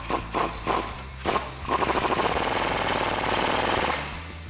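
Rapid rattling impact wrench runs steadily for a few seconds after several short bursts, tightening the factory flag nut on the track bar bolt of a Jeep Wrangler JL 2-door being fitted with a Teraflex lift kit.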